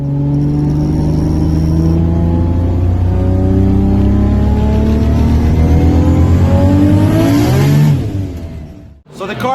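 A 1550 hp Toyota Supra running 60 psi of boost accelerates hard, its engine note climbing steadily through a long, loud pull before cutting off abruptly near the end.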